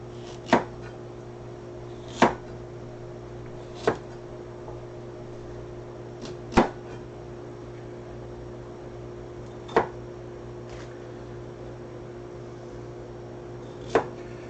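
A knife cuts pork into slices on a cutting board, giving six sharp, well-spaced chops at an irregular pace over a steady low appliance hum.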